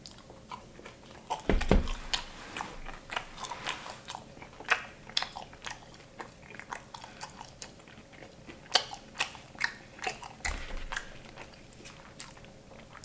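Close, crisp bites and crunchy chewing of Little Caesars Crazy Puffs with cheesy jalapeno, a few sharp crunches followed by steady irregular mastication with no talking.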